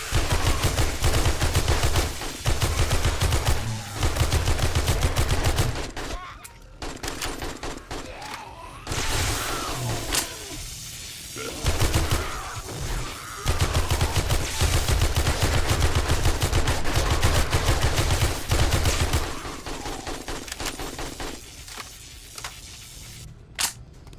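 Sustained 9mm and AK gunfire fills the video game 7 Days to Die, with loud dense bursts and rapid shots broken by a few brief pauses throughout.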